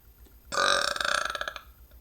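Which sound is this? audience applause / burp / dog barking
burp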